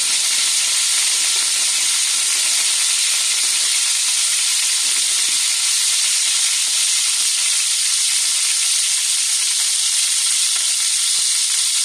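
Hot cooking oil sizzling in a pan before garlic goes in for afritada, a loud, steady, close hiss with no break and no talk.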